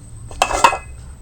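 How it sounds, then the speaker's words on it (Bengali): A knife cuts through rolled paratha dough on a board, giving two close, sharp clicks and scrapes of the blade within a second, with no talk. "এবার একটা ছুরি দিয়ে এরকমভাবে কেটে নেব।"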